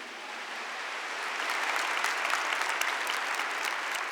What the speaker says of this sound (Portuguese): Aplaude Maria Madalena.